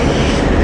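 A Nottingham tram arriving at a stop, a loud, close, continuous rumbling roar of rail wheels and motor that fills the short moment without pause.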